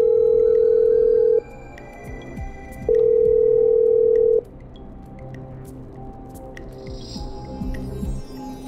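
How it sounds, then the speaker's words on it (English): A steady telephone dialing tone plays in the game Killer Frequency, two loud sustained beeps separated by a pause, followed by quiet room noise and faint clicks. "I'm dialing. One moment."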